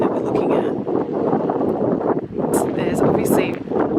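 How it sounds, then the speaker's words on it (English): Strong wind buffets the microphone on a coastal clifftop overlooking the Pacific Ocean at the edge of Australia, with loud gusty rumbling and a few brief rustles over four seconds. "It's very windy."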